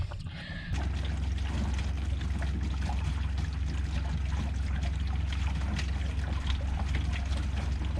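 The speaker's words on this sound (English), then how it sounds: "go ahead and run some water down my toilet just to make sure it's not leaking anymore" Water poured down an RV toilet into the black holding tank, a steady rushing, gurgling flow that begins abruptly and continues unbroken over a low hum, heard without talk.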